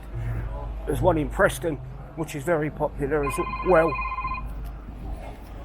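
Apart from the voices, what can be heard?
phone ringing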